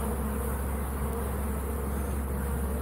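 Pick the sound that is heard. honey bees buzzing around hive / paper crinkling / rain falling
honey bees buzzing around hive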